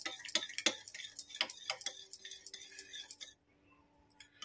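A spoon beats thick pitha batter in a bowl, giving quick irregular clinks and taps against the side, close and fairly crisp, which stop abruptly and leave near silence with a few faint knocks.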